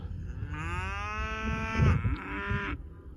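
A cow on winter pasture lets out a long, loud moo nearby, holding steady before trailing off, with low rumbling outdoor noise underneath.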